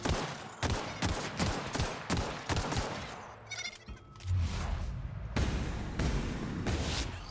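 Bursts of rapid weapon fire in The Outer Worlds on hard difficulty, repeated close volleys of sharp cracks with brief pauses between, a short lull of softer effects midway, then more shooting.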